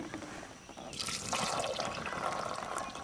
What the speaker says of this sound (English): So now we'll add some fresh water.